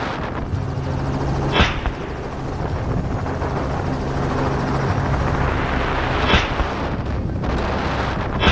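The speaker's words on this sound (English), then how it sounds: "the helicopter's low altitude to reduce glare caused a lot of noise" A low-flying helicopter thunders overhead during a wild boar hunt, its rotor a steady, loud roar with two sharp cracks of gunfire.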